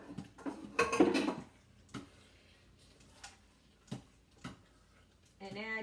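Stirring canned tomatoes into butter chicken in a pot in a quick cooker kitchen, heard as a spoon scraping and tapping against the pot in irregular knocks, with a short burst of talk near the end.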